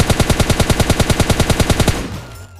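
A rapid, evenly spaced burst of about twenty automatic gunshots in the mobile battle royale PUBG Lite, loud and close, cutting off at the end and leaving a fading echo.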